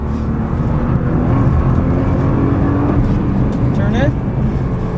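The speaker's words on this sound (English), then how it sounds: "Start squeezing the throttle." A Nissan GT-R accelerates on a race track with a loud, steady engine roar that holds close throughout. A voice talks over the engine noise.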